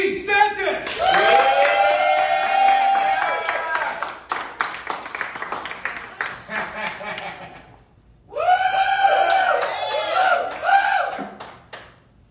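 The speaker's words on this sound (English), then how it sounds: "giant round of applause for this next comedian" A comedy club audience at a stand-up night cheers and claps for a comedian taking the stage, with bursts of whooping and shouting over the clapping. A loud voice talks over it, a short pause falls, then cheering swells again.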